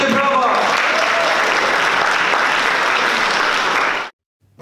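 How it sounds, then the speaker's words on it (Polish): Loud, dense applause from a film festival audience after an audience award is announced, steady clapping filling about four seconds before cutting off abruptly. "Wielkie brawa!"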